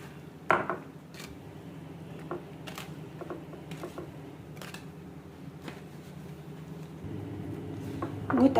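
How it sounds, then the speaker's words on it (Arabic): Potato mixture being stirred together with eggs in a pan, with soft, irregular scraping and light clicks that continue steadily at moderate volume, plus a louder clatter near the end. "وتقلبيهم كويس لغايه ما يندمجوا مع بعض."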